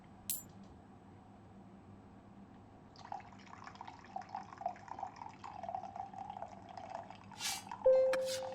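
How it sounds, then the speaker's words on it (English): Coffee pouring into a cup in a quiet room, a soft trickling stream that starts partway through and runs for a few seconds, ending with a light clink and a brief tone. "I was pouring coffee."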